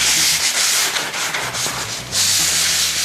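Sanding on a painted wall surface, prepping for a hammered copper faux paint finish; steady, loud abrasive rubbing strokes continue throughout, briefly easing near the middle before resuming strongly.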